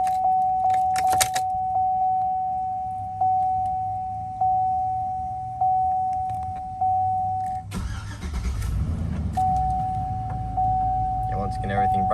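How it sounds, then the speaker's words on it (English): Keys jangle briefly at the start, then a 2004 Chevy Silverado LT Z71 chimes in a slow repeating ding during the key cycle before its engine cranks and settles into a low, smooth idle as the chime returns. "I'll go do a quick key cycle here with it."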